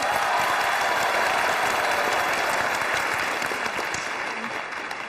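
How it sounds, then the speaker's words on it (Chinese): Studio audience at a Chinese television job-hunting show bursts into loud, sustained clapping that stays dense and even before slowly fading slightly. "来来来，掌声掌声掌声啊！"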